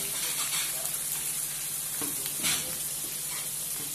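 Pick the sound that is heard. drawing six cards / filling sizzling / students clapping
filling sizzling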